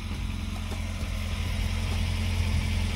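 A car engine idles with a balloon fitted over its exhaust, giving a steady, close, low rumble with constant vibration and no change in revs.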